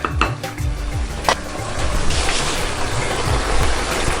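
Chicken bitter gourd curry cooks in a pot with a low sizzle and bubbling, while a spoon stirs and scrapes and knocks against the metal in uneven strokes close to the listener.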